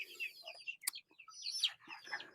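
Native chickens cluck and chirp in a few short, bright bursts close by, with brief gaps between the calls.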